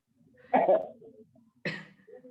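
Two sharp coughs from students in an online electrochemistry class for IIT-JEE/NEET preparation, close by and separated by about a second of near silence.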